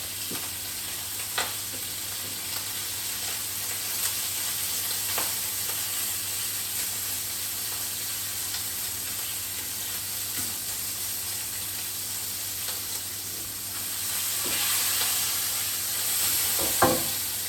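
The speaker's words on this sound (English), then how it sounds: "Bacon I'd like to take and keep it really nice and crispy, so probably about 1 minute each side." Bacon fries in a pan for crispness, a steady close sizzle with occasional crackles and pops, no talk over it.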